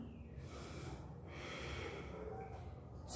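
Deep breaths during a yoga pose, heard as a few long, airy inhales and exhales rising and falling close to the microphone, soft and unhurried, with no speech over them.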